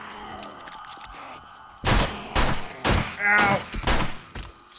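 Pistol shots in the zombie survival game 7 Days to Die, several loud, close single reports in an irregular series after a quieter stretch, with a brief spoken exclamation.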